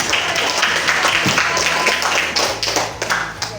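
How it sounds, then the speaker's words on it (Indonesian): A school class applauding together, a burst of brisk overlapping claps, close and fairly loud with some background murmur. "Boleh kasih tepuk tangan dulu untuk lembar kerja."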